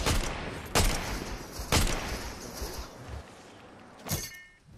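Enemy gunfire in a trios battle-royale shooter, with sharp shots crackling at about 0.8, 1.7 and 4.1 seconds amid a steady din of game noise, no talk over it.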